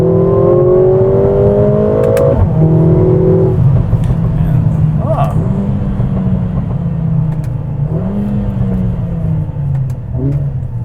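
A 2021 Mercedes-AMG GLA 45 in manual race mode revs hard and shifts through its paddles, with a loud engine note rising and dropping and several sharp exhaust pops and crackles over the rumble.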